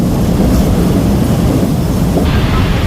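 A loud, continuous rumble of a light rail train passing nearby at night in Quiapo, Manila, a dense roar of wheels and motors that fills the whole stretch without letup.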